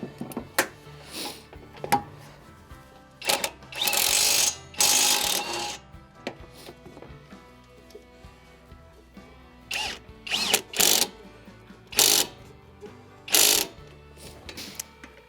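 Kobalt 24-volt right angle impact wrench running in repeated short bursts of loud whirring and hammering, separated by pauses with small clicks and handling noises, close up and without talk.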